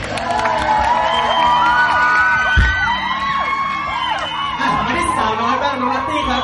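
A concert crowd at a singing-contest mini-concert claps and cheers loudly, with whoops, high excited shouts and chatter layered over the noise for the whole stretch.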